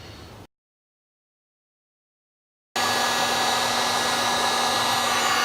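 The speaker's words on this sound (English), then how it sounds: "So I'm just using a heat gun to take these decals off." A heat gun blows steadily to lift decals off a Lenovo laptop case, a loud continuous roar with a faint hum after a short stretch of silence.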